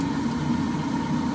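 The pre-purge fan of a wall-hung combi boiler with a no-heat, no-hot-water fault, running as a steady, even hum with a low rumble underneath and nobody speaking.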